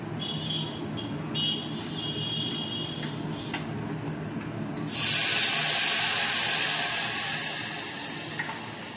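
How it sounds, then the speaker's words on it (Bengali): Water pours onto rice for pulao in a cooking pot, starting abruptly halfway through as a loud, steady rushing splash after quieter kitchen noise with faint background tones. "এবার আমি জল ঢেলে দিচ্ছি"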